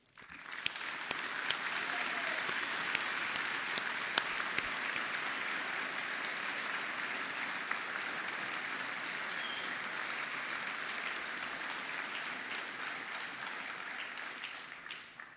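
A graduation ceremony audience at the University of South Wales breaks into sustained applause, a dense steady wash of many hands clapping that holds evenly for about fifteen seconds before fading at the end.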